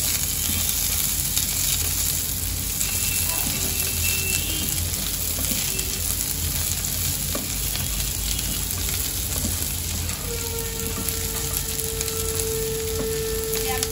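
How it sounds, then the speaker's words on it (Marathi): Onion mixture for Khandeshi kande pohe sautéing in a pan, a steady close sizzle and frying crackle with occasional stirring, continuous throughout. "त्या सर्वांना मी एकत्र परत एकदा परतून घेते"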